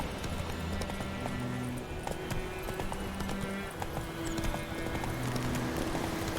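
Roach, the horse in The Witcher 3, trots with steady, clear hoofbeat clip-clops close by, alongside game background tones and a brief spoken line.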